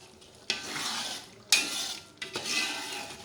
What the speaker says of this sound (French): On remue de temps en temps.